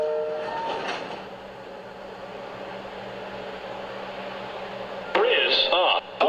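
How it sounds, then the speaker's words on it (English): A New York City subway train pulls into a station, a rumbling rail drone with clattering and squealing brakes near the end, amid speech over the platform. "There is a train approaching."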